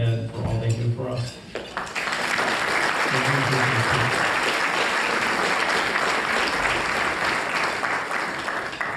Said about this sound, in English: I would like a round of applause for Melinda and Ted for all they do for us.